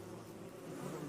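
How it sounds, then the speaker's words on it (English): Bees in a video game buzz in a dense, steady drone, faint and continuous with no other sounds over it. "I got bees for you."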